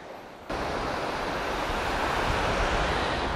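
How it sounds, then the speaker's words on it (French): Calm ocean waves wash onto the beach at Mancora, a steady, full surf wash that swells in after a quieter first half-second and holds continuous and close, with no speech. "Ce matin, l'océan est hyper calme."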